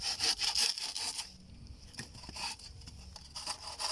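Papaya branch cut during pruning, with rhythmic rasping saw strokes that are loud and quick at first, then slower and quieter, alone with no talking.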